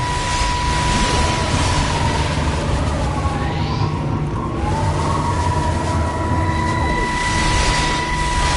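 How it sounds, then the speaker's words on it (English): Aircraft drone overhead in the video game Everybody's Gone to the Rapture. A low, continuous rumble carries a steady tonal hum, and a faint whine sweeps across the middle of the sound. No voices are heard. "I can hear the planes."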